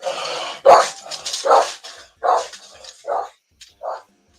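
A dog barks repeatedly at close range, about six loud, separate barks with short pauses between them, the first ones harsher and the later ones shorter, with no talking over them.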